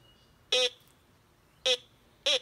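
A metal detector beeps three times over a target in short, loud, evenly spaced tones against quiet background hiss.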